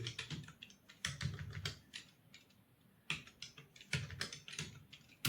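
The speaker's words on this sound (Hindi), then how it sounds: "देखो अब मैं गार्ड टाइप करता हूं" Fast typing on a computer keyboard during a typing practice test, with steady bursts of close, crisp key clicks broken by short pauses.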